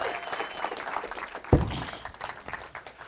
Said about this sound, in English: a big round of applause for Zeke and Luigi.